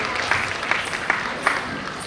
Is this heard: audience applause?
yes